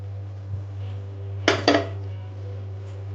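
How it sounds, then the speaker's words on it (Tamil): Paneer cubes going into a pan for paneer roast give two quick, close metallic clatters of utensil against pan over a steady low hum, with quiet surroundings otherwise. "இப்போ இதில் நம்ம எடுத்து வச்சிருக்க பன்னீர் போட்டுக்கலாம்."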